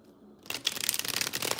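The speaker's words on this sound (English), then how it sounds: "I got one more Oracle deck to shuffle" An Oracle card deck is shuffled by hand, a dense, papery riffling crackle that starts abruptly and continues steadily, close by.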